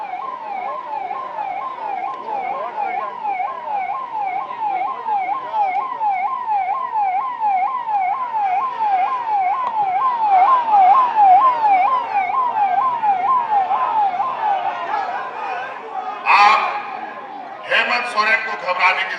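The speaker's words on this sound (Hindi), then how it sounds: "जरा यहां एम्बुलेंस फंस रहा है, इसको एम्बुलेंस को फंसने ना दे, एम्बुलेंस को निकाल दो" An ambulance siren wails in a steady, rapid up-and-down cycle while the vehicle is stuck in a crowd at a political gathering. The siren stays loud throughout, with short bursts of crowd noise and voices near the end.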